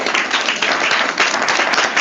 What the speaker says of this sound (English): let's give them another round of applause for excellent